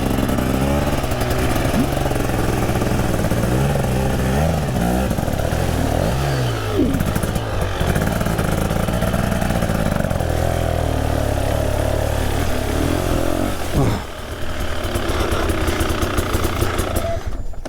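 Motorcycle pulling away in first gear: a loud, rough engine note that climbs in pitch, with a sudden change in tone near fourteen seconds, close and continuous throughout.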